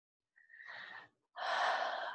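Two close, unaccompanied breaths: a short inhale that swells into a longer airy breath, then after a pause a louder, fuller exhale.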